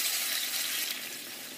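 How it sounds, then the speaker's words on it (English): Water poured into an enameled cast iron pan holding oxtail produces a steady, bright hissing rush that stays even and close, tapering slightly toward the end. "I'm going to take the water and I'm just going to cook it right here in my cast iron pan, my enameled cast iron pan."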